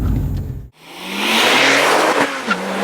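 A 2007 Porsche 911 Turbo engine accelerating hard up a highway ramp, a brief lift then a strong rising roar with gear shifts, loud and close with no talk.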